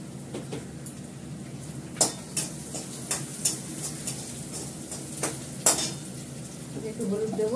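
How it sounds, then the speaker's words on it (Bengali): Cumin seeds sizzling in hot oil for tempering, a steady close sizzle broken by sharp metallic clinks of a spoon on the pan, with faint speech in the background. "জিরে ফোড়ন দেবো,"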